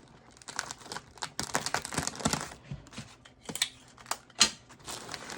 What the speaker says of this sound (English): I then go back and take a piece of tape and just kind of go around this where I cut it up underneath the flower.